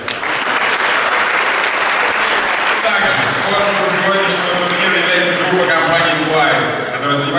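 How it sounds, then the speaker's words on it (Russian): A dense wave of audience applause fills a hall at the 2015 Moscow hustle dance championship participants' parade, loud and sustained throughout. "Ваши аплодисменты."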